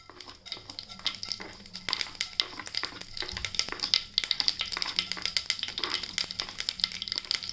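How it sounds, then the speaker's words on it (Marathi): Mustard seeds splutter in hot oil for tempering a cauliflower and peas dry dish, a dense run of sharp, irregular crackling pops that continue steadily, close by and moderately loud with no talk. "फोडणीसाठी पहिले मोहरी टाकायची"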